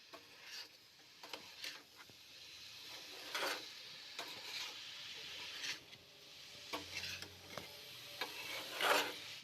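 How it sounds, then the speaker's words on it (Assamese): Grated coconut being dry-roasted in a pan for laddu, with quiet scraping and stirring strokes that come in irregular bursts over a faint background, close but soft, with no voices. "এতিয়া নাৰিকলখিনি ভাজি আছে"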